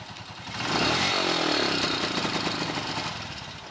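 A Honda TMX motorcycle engine runs with its air cleaner intake covered, a close, loud, rough chugging note that swells, labours and sags unevenly.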